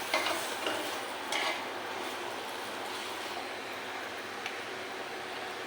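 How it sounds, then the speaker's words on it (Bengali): Thick paratha-style naan bread fries in a pan, giving a steady, close sizzling hiss throughout, with a few brief scraping or stirring bursts near the start and no voices. "এরকম মোটা মোটা করে পরোটার মতো ভাইজে নিতেছি"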